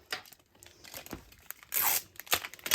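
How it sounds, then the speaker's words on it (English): Tape being torn off a roll to seal folded paper, several short ripping bursts including one longer loud tear, close up with no talking. "And then I'm going to tape that shut."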